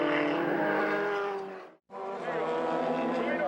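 Formula 1600 race cars on track at Le Circuit, loud high-revving engines screaming past, cut by a brief abrupt dropout before the engine drone resumes.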